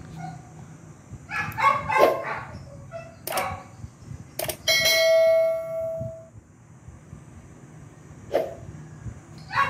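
Notification bell sound effect, a few short chimes and bright ringing tones mixed with cartoon-like effects and a sustained tone, moderately loud with brief gaps between the sounds.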